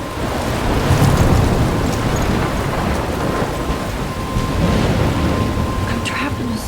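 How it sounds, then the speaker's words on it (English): Rainy thunderstorm in the video game Life is Strange, with steady heavy rain hiss and low thunder rumbles swelling around the middle and end, continuous and loud throughout. "I'm trapped in a storm?"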